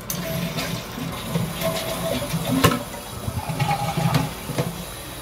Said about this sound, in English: And that worked, because we heard the toilet.